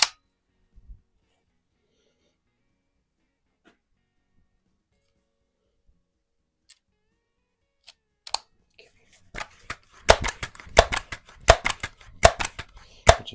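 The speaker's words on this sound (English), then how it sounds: "All you're really hearing is the pellet hitting the cardboard across the garage more than anything." Daisy Powerline 901 air rifle pellets striking cardboard across a garage, a burst of sharp, dry ticks and snaps clustered toward the end after near silence, faint and distant.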